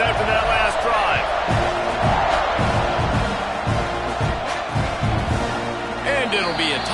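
A football stadium crowd roars continuously at a kickoff, a loud, dense, distant wash of cheering and whoops that swells near the end, with a commentator talking over it.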